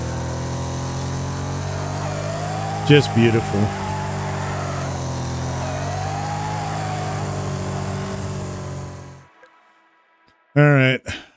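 A steady car engine drone in the racing video game Wreckfest hums for several seconds, briefly under a spoken remark, then cuts out; another voice speaks at the end.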